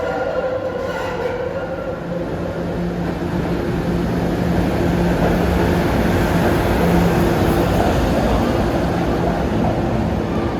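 Kawasaki-built SEPTA trolley on the 34 Baltimore Avenue streetcar line in Philadelphia, a steady loud rumble of wheels on rail with faint tonal whine throughout, close by and continuous.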